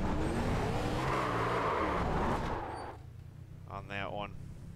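A race car in a sim racing game at Watkins Glen skids after overshooting its braking, with a loud, roaring tyre screech for about three seconds that then drops away, followed by a brief voice.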